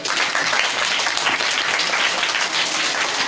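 Audience applause welcoming Vinod Kumar at a public event, a dense, steady wash of many hands clapping that holds at an even loudness for the whole stretch, with no voices heard over it.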